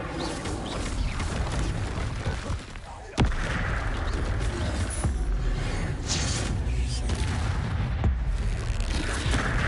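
Confringo blasting spell explosions in a Harry Potter video game, a dense loud barrage of booms and bursts with a sharp crack near the middle, layered over continuous game noise and effects.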